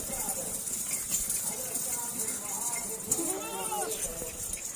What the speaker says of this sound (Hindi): और ये बकरा खड़ा हुआ है।